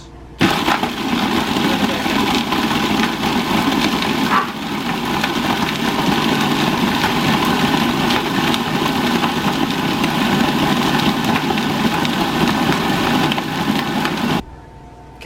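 A blender purees pineapple with ice for Italian ice: a loud, steady motor whir with grinding and crunching that runs unbroken for about fourteen seconds, then stops abruptly, with no talk.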